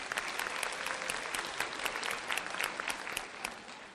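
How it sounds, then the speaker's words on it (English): Conference attendees applaud themselves at a large national HR gathering, giving a crisp, busy patter of many individual claps that swells and fades slightly over a few seconds. "give yourselves a round of applause"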